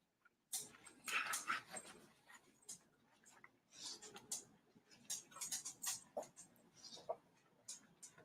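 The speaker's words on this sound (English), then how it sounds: "Nice dog." A pet dog whimpers and whines in short, faint bursts spread through a quiet indoor room, with soft shuffling and small ticking noises between the cries.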